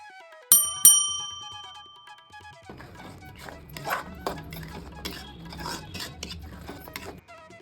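Buttermilk porridge batter for morkali is stirred in a pot after a couple of ringing metallic clinks, the spoon scraping and tapping against the pot in an uneven, close rhythm.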